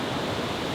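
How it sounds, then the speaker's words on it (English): Steady broadband roar of a waterfall beside a creek campsite, a constant white-noise rush heard close and alone with no other sounds. "you could just hear this waterfall all night, and just, it's like white noise that puts you to sleep"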